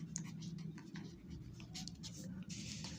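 Pen scratching steadily on paper while a maths solution is written out by hand, a continuous close-up scribble with a low hum underneath.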